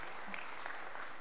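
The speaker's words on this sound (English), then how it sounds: "Muted applause for that." Light, muted applause from a lecture audience, a brief patter of scattered clapping that is fairly quiet and distant.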